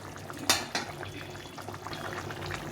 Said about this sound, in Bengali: ঝোলটা ভালো করে ফুটিয়ে নিতে হবে, সুন্দর করে ফুটাতে হবে